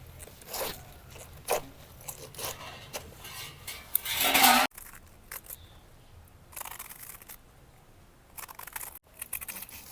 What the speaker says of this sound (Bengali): বাঁধাকপিটা ঝিরি ঝিরি করে কাটে নিব